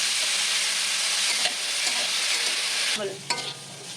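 Pumpkin pieces salted and tossed with chillies fry in a pan, a dense continuous sizzle broken by scraping stirs, the hiss thinning in the last second as the pan is moved.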